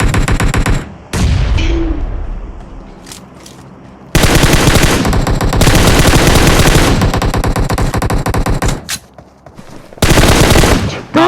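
Loud rapid automatic AKM rifle fire in PUBG Mobile, in long sustained bursts, with brief gaps between volleys and distant shots in the pauses.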